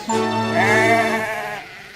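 Sheep bleating from a group scrambling out of trucks near a market, one long wavering bleat overlapping another, close and fairly loud, fading at the end.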